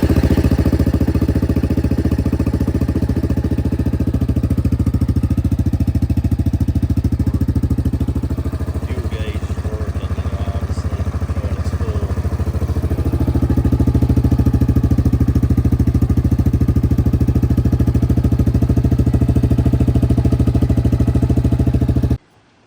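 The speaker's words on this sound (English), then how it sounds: "So the Kodiak is back running with the new All Balls Racing fuel pump" A 2019 Yamaha Kodiak 700 ATV engine runs with a new All Balls Racing fuel pump, holding a loud, close, steady idle with an even low rumble that dips briefly midway before cutting off abruptly.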